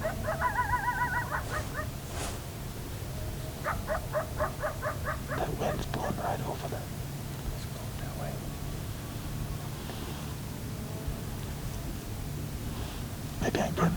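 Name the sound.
coyote barking in the distance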